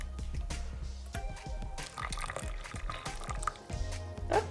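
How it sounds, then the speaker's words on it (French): Hot milk pours into a flan pâtissier mixture with vanilla pods, giving a close, wet, gurgling splash that rises and falls over a few seconds with small drips. "J'ai mon lait dans ma préparation, donc je fais attention aux gousses de vanille qu'elles ne tombent pas à l'intérieur."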